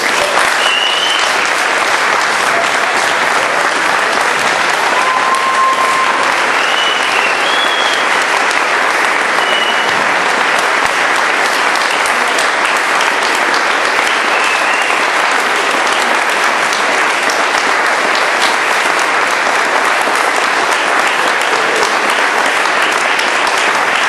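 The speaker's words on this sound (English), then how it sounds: "Well, I appreciate that applause." Sustained, dense applause from a large audience fills the room steadily and loudly at an appreciation day honoring a grandmaster, continuing without a break.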